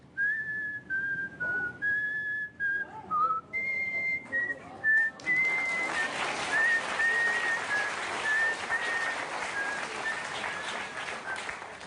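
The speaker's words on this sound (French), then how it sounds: "je siffle en soufflant et en expirant" A person whistles a lilting melody in clear, sustained notes on a French TV show set, then studio applause and a rain-like patter swell underneath as the whistling continues.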